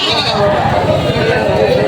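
Several goats bleat over one another in a noisy, crowded livestock market pen in Padre Garcia, Batangas, with steady background chatter of people throughout.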